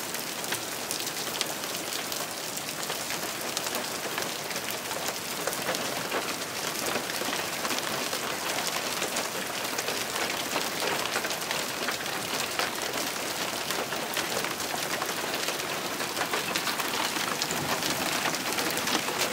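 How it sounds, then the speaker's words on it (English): Hail falls outdoors in Wisconsin as a steady, dense patter of hard pellets striking surfaces, continuous and even throughout with no voices. "It's hailing out."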